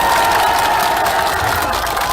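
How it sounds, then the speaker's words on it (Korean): A crowd at a patriotic memorial rally gives big applause for two attending generals, a loud dense wash of clapping and cheering that fills the whole moment. "큰 박수를 해주시기 바랍니다"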